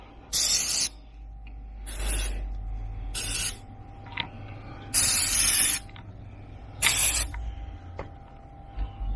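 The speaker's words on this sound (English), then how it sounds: "Let's spray everything." Five short bursts of aerosol spray hissing at irregular intervals, close by, over a low rumbling background.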